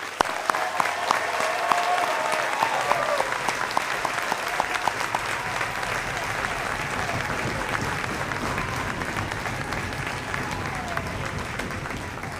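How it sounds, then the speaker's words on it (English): Sustained, dense applause from a large crowd at an outdoor high school graduation fills the air, steady and enthusiastic from start to finish. "Let's give them a large round of applause."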